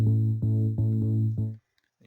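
Thick, sustained progressive chords from the Spire software synthesizer repeat in a steady rhythm, each re-struck about every third of a second, then stop abruptly into near silence.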